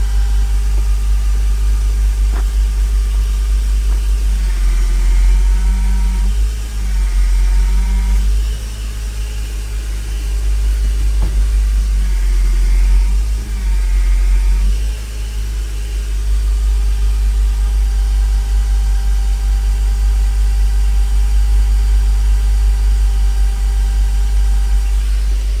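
A Porsche Boxster 986, with its intake leak repaired, idles steadily close at hand as a loud, even low rumble with slight dips in pitch.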